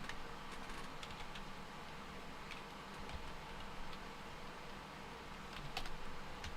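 Quiet typing on a computer keyboard, a string of light, irregular key clicks heard faintly over a steady background hum, with no voices.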